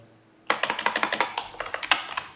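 Code being typed on a computer keyboard: a close, steady run of about fifteen crisp key clicks that starts abruptly after a short quiet moment and continues at an even, quick rhythm.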